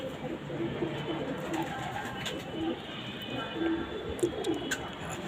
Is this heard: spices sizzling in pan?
no